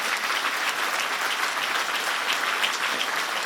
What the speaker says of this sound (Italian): io gli dedicherei un grande applauso a tutti quanti